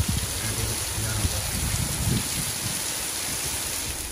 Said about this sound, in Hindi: इतनी तेज बारिश निकल नहीं पा रहे हम